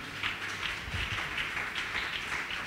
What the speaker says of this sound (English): Clap your hand for Jesus again